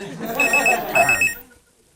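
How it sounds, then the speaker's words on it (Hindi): An old-style telephone bell rings in two close bursts of trilling chimes, loud and near, then cuts off into silence. "फिर वापस फोन आया।"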